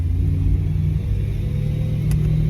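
A BMW E92 M3 fitted with BBS E88 wheels cruises slowly around a parking lot, its engine giving a steady, deep droning rumble heard from inside the cabin, with no talking.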